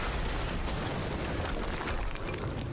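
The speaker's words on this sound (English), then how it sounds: "we just heard an explosion near the harvesting perimeter" Explosion in the video game Quantum Break, heard as a loud, sustained rumbling blast that fills the whole moment without letting up.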